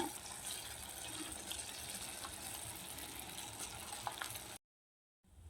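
Potato pieces frying in hot soybean oil in a pan, a steady bubbling crackle at moderate volume that runs evenly, then drops out abruptly for a moment before resuming faintly.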